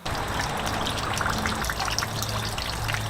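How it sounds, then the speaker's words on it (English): Water trickles and splashes steadily nearby from a water feature in a sensory garden, a continuous bright babble over a low background hum. "We have several sound elements here in the sensory garden. The water feature"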